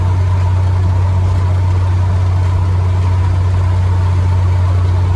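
A 1966 Ford travel wagon van engine runs steadily, a loud, close low hum with a constant throb that continues unbroken and without talk.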